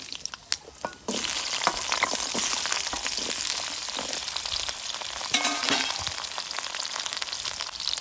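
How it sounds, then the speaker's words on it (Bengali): Cut potatoes hit hot mustard oil in a wok, setting off a loud, close, steady sizzle after a brief clatter, with faint stirring through the hiss. "আলুটাকে একদম খুব ভালোভাবে ভাজা ভাজা করে নিতে হবে।"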